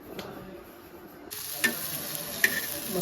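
Fish pieces fry in a pan over a fire with a soft, steady sizzle, broken by a few sharp clinks and scrapes, and no voices.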